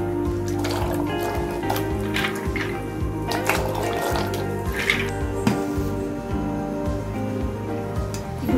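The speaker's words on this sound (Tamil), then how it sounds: "தண்ணி நல்லா கொதிக்க ஆரம்பிச்சிச்சு" Water bubbling and gurgling steadily as it boils in a pot, with a low constant hum in the background.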